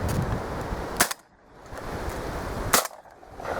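Two sharp shotgun reports from pigeon shooting over decoys on a maize field, about two seconds apart, each cracking loud against outdoor wind noise and fading quickly.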